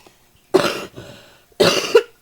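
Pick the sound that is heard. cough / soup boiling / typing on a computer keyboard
cough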